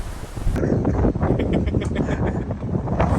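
Loud, constant wind buffeting the microphone, with low rumbling gusts and faint rustling throughout, no voices.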